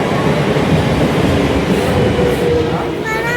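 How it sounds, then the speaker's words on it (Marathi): A Mumbai suburban local train runs near Borivali station, giving a loud, continuous close rumble and rattle of the carriage that holds steady throughout, with a faint rising whine near the end. "आता असं लोकल पकडतो न जातो आता एवढा आम्ही बोरिवली स्टेशन"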